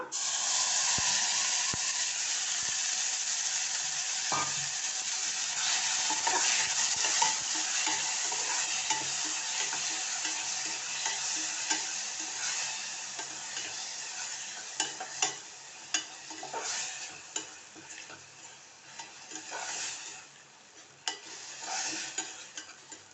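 Smashed tomato frying in hot oil for a spicy pepper rasam, a steady close sizzle with hiss that slowly fades, broken by occasional spoon stirs and clinks.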